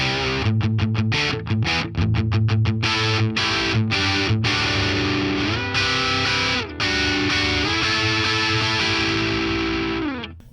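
Electric guitar played through a Boss Katana amp with an airy metal tone: distorted chugging riffs with sharp stops, then sustained ringing chords fading out at the end.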